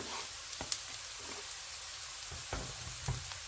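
Quiet, steady sizzle of chopped green peppers frying in a pan for roasted eggplant kavurma, with a few soft clicks of a utensil now and then.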